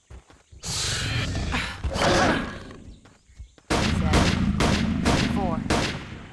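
Loud gunfire bursts from single-use guns in a Half-Life mod video game, two dense clusters of rapid shots separated by a short gap, with a horse-like whinny sound among them.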